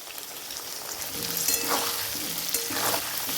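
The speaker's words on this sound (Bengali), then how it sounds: "আলুটা লাল লাল করে ভেজে নেব" Potato pieces frying and being stirred in a pan for Bengali cabbage ghonto, a continuous close sizzle with occasional scraping stir strokes that swell the hiss, no voices present.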